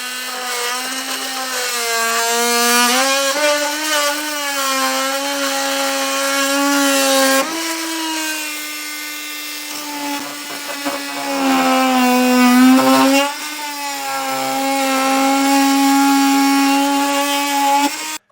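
A power tool trims the plastic air dam centerpiece on a 2024 Ford during a tow base plate install, giving a loud, continuous whine that rises and falls in pitch over several long passes, with brief pauses and no talking.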